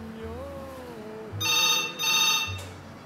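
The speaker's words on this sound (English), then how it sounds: "Hey, the phone's ringing, somebody get the phone." A telephone rings in two close, bright bursts with a short gap between them, loud and near, before the room drops back to a quiet murmur.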